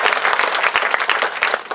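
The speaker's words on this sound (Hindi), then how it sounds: "जोरदार ताली भाई" Applause from a crowd at a political rally stage, dense steady clapping throughout with sharp individual claps standing out near the front.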